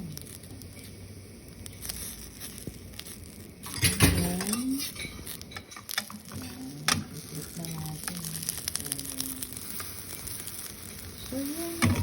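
An egg sandwich with lettuce and tomato frying in a single pan, a steady close sizzle running throughout with brief clinks of a utensil and occasional voice in the background.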